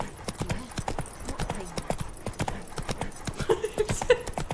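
Horse hooves clip-clop steadily in the video game The Witcher 3: Wild Hunt, a quick repeating rhythm of hoof strikes running through the whole stretch, fairly close and clear, with a few brighter tonal game sounds near the end.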